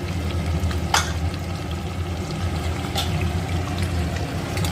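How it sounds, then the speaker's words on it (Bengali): Mutton sautéed with spices for vindaloo fries in a loud, steady sizzle, with a couple of brief scrapes of stirring rising above it and no talking. "আমি ভালো করে কিন্তু কষিয়ে নেব দেখো মশলার সঙ্গে বেশ ভালো করে আর কিছুক্ষণ কষিয়ে নেব"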